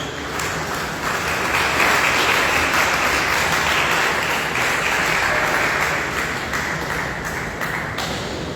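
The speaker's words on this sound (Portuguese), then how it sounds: "dê uma salva de palmas bem alegre para Jesus" Church congregation giving a lively round of applause during an evening service, thick sustained clapping from many people, close and loud, running steadily without speech.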